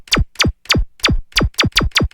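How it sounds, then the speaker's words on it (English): A Serum synth laser sound, its level modulated by an LFO, fires eight rapid downward-sweeping zaps in a steady, slightly uneven rhythm, each bright burst dropping sharply in pitch, loud and dry with a faint echo. "he uses this laser sound a lot"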